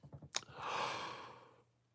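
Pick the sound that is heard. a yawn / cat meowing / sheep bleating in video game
a yawn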